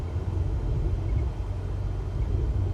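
Aircraft engine in Microsoft Flight Simulator running at about 1,000 RPM and being throttled up, a steady low droning rumble heard close and alone, with no talk over it.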